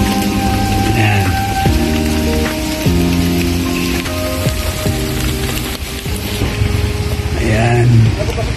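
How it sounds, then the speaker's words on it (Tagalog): Steady, loud rain falling on a surface around a house under renovation, a continuous wash of patter with a low machine-like hum beneath it and no speech. "Maulan pa ngayon guys, maulan."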